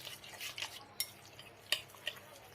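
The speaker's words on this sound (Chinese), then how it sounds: "然后我们用筷子朝一个方向充分的给它搅拌均匀" Chopsticks stirring a seasoned meat filling in a bowl in one direction, with soy sauce, oyster sauce, starch and scallion-ginger water mixed in. A few soft, sparse scrapes and clicks sound close and quiet, with no talk.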